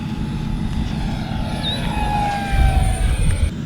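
An H-King F-18 Super Hornet RC jet roars steadily during takeoff and flight outdoors, a loud continuous turbine-like whine over low rumbling, with a rising whistle partway through and no talking.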